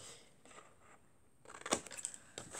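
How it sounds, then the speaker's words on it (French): Scissors snip through a square of paper for an Easter egg box, a few quiet rustles giving way to a sharper, louder cut and some crisp follow-up snips, close by and without talk. "là où il y a la petite marge de 1 cm, on coupe"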